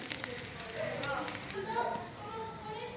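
Spice paste frying in a pan for chana chaat: a steady, close sizzle and crackle throughout, with light stirring scrapes over it.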